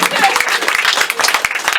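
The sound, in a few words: audience applause at a comedy show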